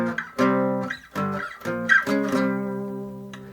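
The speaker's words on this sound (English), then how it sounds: "Now we add that to a 3-note power chord, still root position." A three-note power chord in root position, struck several times in an uneven rhythm with rich sustained harmonics, the last chord ringing out and fading, with no talking.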